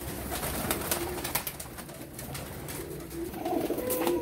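Teddy pigeons kept in a loft coo softly in low repeated murmurs, fairly close but quiet, amid rustling and shuffling, with a few sharp clicks and knocks.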